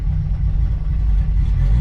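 A race car engine, still not fully tuned and running on oversized 2400 cc injectors, revs loud and close with a deep, slightly rough, continuous roar that builds a little toward the end.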